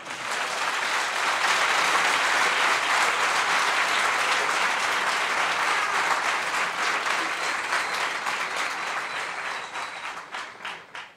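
A lecture hall audience gives another round of applause for Chief Justice Mogoeng Mogoeng, steady close-packed clapping that holds for several seconds before thinning and fading out.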